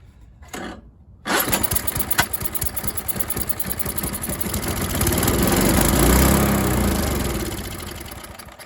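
Small 5 HP Tecumseh engine on an MTD snowblower, a short pull and brief sputter, then it catches about a second in and settles into a loud, steady running clatter that swells slightly before easing.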